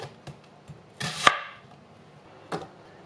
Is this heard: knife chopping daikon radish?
yes